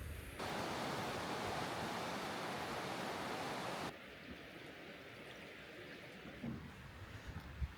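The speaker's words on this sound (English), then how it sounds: "You can see how fast the river is moving and how swollen it is from the recent rains" A fast-flowing river swollen from recent rains roars as a loud, dense, unbroken rush, then drops suddenly to a softer, more distant flow with a few small splashes.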